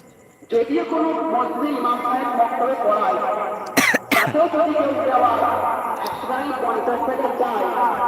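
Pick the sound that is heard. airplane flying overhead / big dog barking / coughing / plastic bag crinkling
coughing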